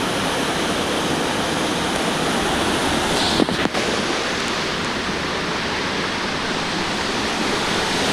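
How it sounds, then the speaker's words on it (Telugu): A fast-flowing mountain river in Old Manali rushes past close by, a loud, continuous roar of churning water with no voices over it. "వాటర్ ఫ్లో మాత్రం చాలా ఎక్కువగా ఉంది"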